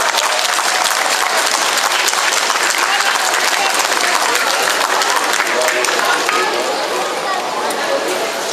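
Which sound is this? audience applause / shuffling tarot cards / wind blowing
audience applause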